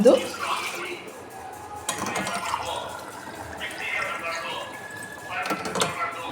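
Water poured glass by glass into a pot for making pongal, splashing in several short bursts spaced a few seconds apart, fairly faint and close.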